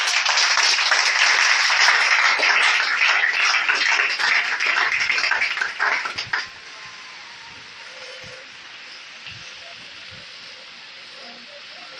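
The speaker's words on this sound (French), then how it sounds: "Acclamez le Seigneur Jésus" Church congregation applauding during a service: loud, dense clapping from many hands for about six seconds, then stopping abruptly, leaving faint room noise and a few scattered sounds.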